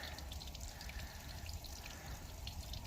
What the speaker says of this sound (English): Well, I have hot water. It's getting there, it's warming up.